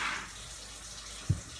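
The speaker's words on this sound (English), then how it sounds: "then I just get some more water on my fingers. I'm going to keep it running." Warm water runs steadily from a kitchen tap while plant-based mushroom burger patties are shaped by hand, a soft continuous wash with one brief splash near the end.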